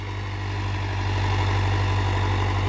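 Mahindra Arjun 605 DI tractor engine idling close by, a steady, loud low-pitched diesel rumble with an even, rapid chugging pulse and no voices.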